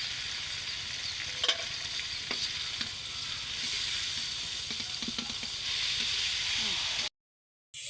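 Pasta and softened ingredients frying in a pan while being stirred, a steady close sizzle with scraping stir strokes and occasional clinks, ending abruptly in a brief silence.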